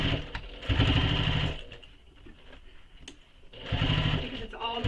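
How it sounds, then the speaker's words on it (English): A sewing machine stitches a belt bag in two close, loud bursts of rapid mechanical whirring, separated by a quieter pause with light handling sounds. "And start sewing, and it doesn't matter where you start"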